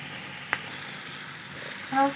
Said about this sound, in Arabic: بنحبه ندبله بالسمنة البلدي وبمعلقتين زيت والسمنة البلدي